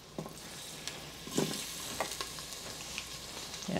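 Ginger, garlic and chilies sizzling in a tablespoon of vegetable oil, a quiet steady fry with scattered crackles and pops, heard alone.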